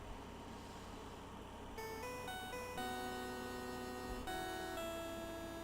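A phone ringtone plays a theme in the Ace Attorney video game, a quiet tinkling electronic melody of sustained notes that begins after a low hum and runs on steadily with no voices.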